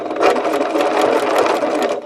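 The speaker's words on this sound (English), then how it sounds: "Now if you're a person who likes to stitch over the pins, we'll stitch over this one." A sewing machine with a quarter-inch foot runs steadily, stitching a paper-pieced log cabin quilt block over a pin, its fast mechanical whir continuous and close for about two seconds.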